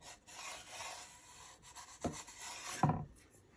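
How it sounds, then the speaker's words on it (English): A hand rubs a grunge finish into a wooden surface, producing soft close-up scraping strokes, with two sharper rasping passes near the end and no speech. "just by rubbing with your hand you can kind of fade it in and out a little bit"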